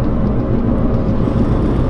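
A worn wheel bearing drones inside a moving Honda Civic fitted with new coilovers, a loud, continuous low rumble with a faint wobble that fills the cabin without letting up.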